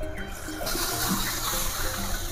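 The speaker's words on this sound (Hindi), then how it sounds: "आम अल्प कि पानी देदेबा" Water is poured into a clay pot of simmering Kabuli chana (chickpea curry), a steady, close gushing splash that runs the whole time at moderate volume with no talk.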